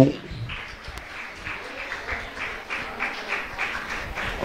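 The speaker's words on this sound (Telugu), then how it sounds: "Let the claps continue." An audience at a church singing competition's prize distribution keeps up steady applause, a moderate wash of clapping that carries on throughout with a few louder peaks.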